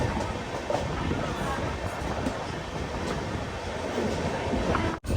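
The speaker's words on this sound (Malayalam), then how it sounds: "ട്രെയിൻ ഇതാ വഡോദര ജംഗ്ഷനിലേക്ക് എത്തിക്കൊണ്ടിരിക്കുകയാണ്" An express train rolls into Vadodara Junction in Gujarat, heard from inside a sleeper class coach as a steady, loud rumble and rattle that continues throughout, with a brief dropout near the end.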